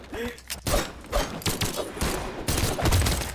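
Cannonball shots fire in the video game Brawlhalla, a rapid series of sharp booming bursts and thuds in irregular clusters, loud and close, with game clutter between them.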